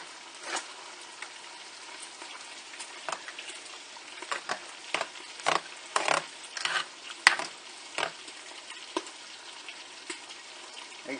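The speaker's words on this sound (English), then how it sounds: "I'm just going to mix this all up. Stir it up, get it all well combined." A baked beans mixture with brown sugar is stirred in a bowl, giving a series of wet, sticky squelches and scrapes in irregular bursts, close and moderately loud with no voice.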